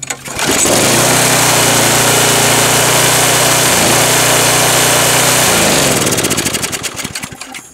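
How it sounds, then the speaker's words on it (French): A Mac-Allister lawn mower engine with a carburettor fault races steadily at full throttle, loud and close, with a constant droning hum that holds for several seconds before cutting out near the end. "Coupe-circuit fonctionne, mais le carbu tourne plein pot."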